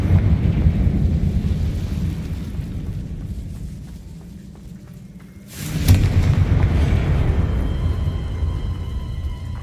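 Confringo spell explosion in Hogwarts Legacy, a sudden loud blast that erupts after a lull and rolls into a sustained rumbling boom over ongoing low background noise.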